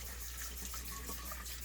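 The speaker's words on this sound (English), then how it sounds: "Just gonna rinse my turkey off." Tap water runs steadily into a kitchen sink while a whole turkey is rinsed, a continuous broadband hiss holding even for the short stretch with no talking.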